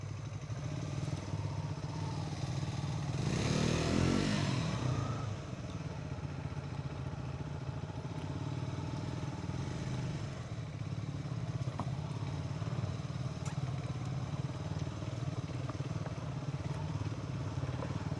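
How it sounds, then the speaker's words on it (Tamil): A motorcycle engine drones steadily while riding an off-road mountain trail, loud and continuous, with a brief surge of rushing noise near the start. "இந்த மாதிரி ஆஃப் ரோடெல்லாம் போயிடும் பைக்கு."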